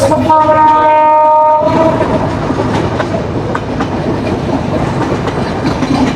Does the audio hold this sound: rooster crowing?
no